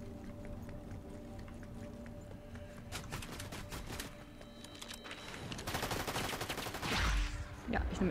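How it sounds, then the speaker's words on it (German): Rapid bursts of Fortnite gunfire crack repeatedly over a steady game soundscape, growing denser and louder toward the end. "Ich weiß nicht, wo die Schüsse herkommen."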